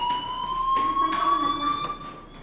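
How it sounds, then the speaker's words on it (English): In the video game Life Is Strange, a fire alarm rings with a steady, piercing electronic tone that holds loud and unbroken, with faint background activity beneath it. "Hey, do you hear that fire alarm?"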